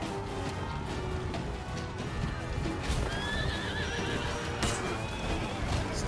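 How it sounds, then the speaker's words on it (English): Horse neighing and galloping in the video game For Honor, steady clip-clop hoofbeats with whinnies over a dense, loud battle din, no speech in between. "Come on, horse."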